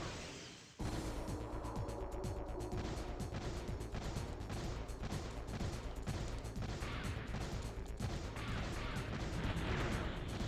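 A cannon weapon fires in a PS1 shoot-'em-up video game, a rapid, continuous barrage of blasts and crashing impacts that starts abruptly and stays loud and dense, with no talk over it.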